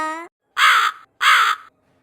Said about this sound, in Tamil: அப்ப ஒரு காக்கா வந்து மரத்துல வந்து உட்கார்ந்துச்சா